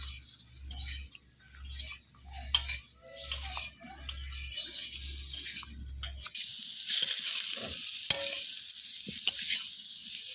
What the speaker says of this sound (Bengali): খিচুড়িতে যে আলুটা দেওয়া হবে সেই আলুটা আমি এখন ভাজছি